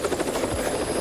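A helicopter hovers during a 1987 treasure hunt in Jersey, its loud, dense rotor chop and turbine whine filling the whole short stretch close by, with no talk over it.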